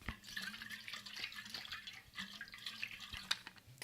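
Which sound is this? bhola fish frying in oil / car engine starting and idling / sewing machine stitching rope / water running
water running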